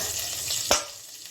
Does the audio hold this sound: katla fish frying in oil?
yes